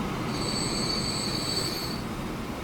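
A train in the video game Transport Fever 2 gives a steady rumbling run with a high, thin wheel squeal that rings over it for a couple of seconds and then fades, loud and continuous, with no voices.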